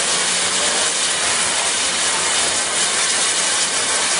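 Santa Fe 3751 steam locomotive at a railroad days event gives off a loud, continuous hiss of escaping steam up close. The broad, airy rush holds steady for the whole stretch with no voices over it.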